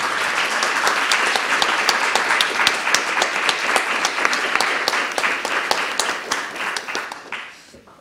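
Sustained audience applause at an academic conference, dense clapping from a room full of people holding steady for several seconds before tapering off at the end.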